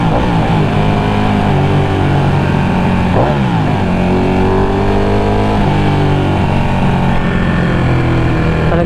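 A Ducati Panigale 1199 motorcycle with its stock exhaust runs steadily, and its engine tone rises and dips in a few revs over a constant drone.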